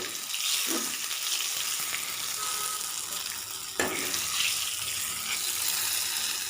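Hot shallot tempering is poured into papaya erissery, giving a soft, steady sizzle and bubbling hiss with a small clink partway through, quiet and with no voices.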